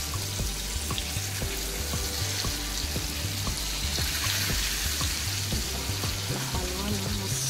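Halwa (pomfret) fish frying in a pan crackles with a constant hiss and sputter, while rhythmic taps and scrapes of a spatula mark it being turned over; no voices.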